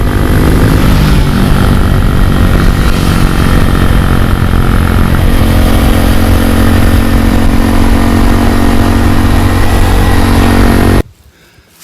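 A Honda Monkey 125 mini motorcycle being ridden, a loud steady engine drone at close range that holds for about eleven seconds and then cuts off abruptly.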